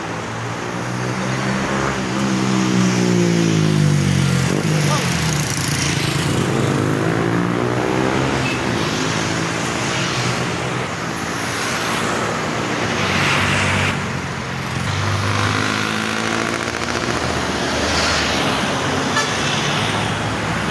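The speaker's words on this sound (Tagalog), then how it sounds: "Nakasakay na tayo sa kotse." Steady road and engine rumble of a car driving, heard from inside the vehicle, continuous and fairly loud with a brief horn-like tone near the start.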